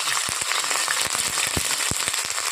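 Black cumin seeds and ginger paste crackle and sizzle in hot oil in a pan for soybean curry, a steady dense fry with sharp pops scattered throughout and no talking.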